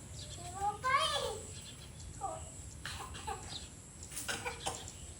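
Farm chickens cluck and squawk close by in a quiet rural yard on a rainy day, a few short bursts of clucking scattered over soft background noise, with faint voices nearby.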